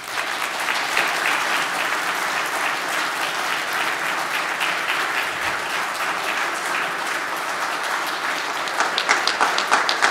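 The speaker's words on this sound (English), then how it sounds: "please, standing round of applause for Dick Lindzen" A standing audience at an award ceremony gives sustained, dense applause for Dick Lindzen, steady and full throughout with a few sharper claps toward the end.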